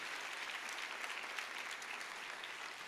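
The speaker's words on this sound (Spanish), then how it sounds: "Dale fuertes aplausos al Rey." A church congregation gives the King a strong ovation during a Spanish-language sermon: continuous, even clapping from a large crowd, heard at a distance and rather faint, with no talking.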